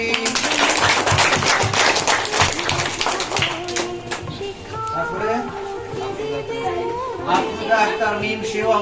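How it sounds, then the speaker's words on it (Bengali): Applause from the audience at a school scholarship prize-giving ceremony, a dense patter of many hands clapping loudly for several seconds, gradually thinning, with voices chattering underneath. "তার জন্য করতালি"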